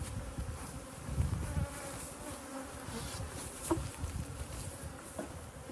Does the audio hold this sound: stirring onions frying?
no